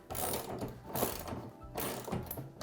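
A ratchet clicks close by in quick repeated strokes while snugging TV wall mount bolts into drywall, coming in several rapid bursts with no talking.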